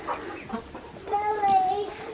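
A young hen clucks and gives a short, rising squawking call close by on a farm, a few bursts over roughly two seconds with faint background voices.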